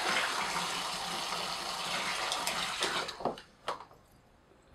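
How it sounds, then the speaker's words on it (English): An Arduino-controlled sump pump moving water with a steady rushing gush that runs close and loud for about three seconds. It then sputters and cuts out, leaving a few final splashes and quiet. "It just shut off, and that's because it pumped enough water out to drop the float switch down."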